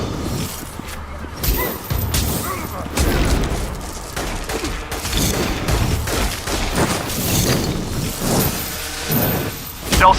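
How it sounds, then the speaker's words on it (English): In the Infamous: Second Son video game, bursts of gunfire crackle and boom in rapid volleys amid crashes and whooshes, loud and continuous throughout with voices mixed in. "I heard shots."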